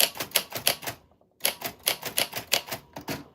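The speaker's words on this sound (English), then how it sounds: "That's what your name sounds like on a typewriter." A typewriter clacks out a rapid, even run of sharp keystrikes, pauses briefly, then resumes with another steady burst of crisp mechanical strokes, close and clear with no voices.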